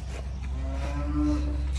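Cattle low in a shed during a calf-tagging day, one drawn-out moo swelling in the middle over a steady low barn rumble, fairly close, with no talk.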